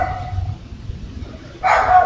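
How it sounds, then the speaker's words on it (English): A dog barks from a short distance away, a single loud burst near the end after a stretch of quiet room noise, with no one speaking over it. "Sounds like an Izzy Boo barking"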